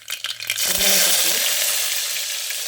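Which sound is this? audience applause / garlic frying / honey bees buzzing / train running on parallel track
garlic frying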